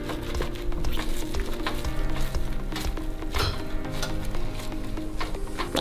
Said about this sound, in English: Now you just mix up the puree with the yellow cake mix